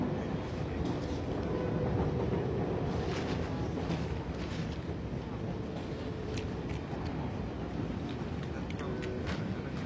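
Steady rumbling aboard a moving passenger train fills the whole stretch, a continuous low roar with rattling, and voices murmur faintly underneath.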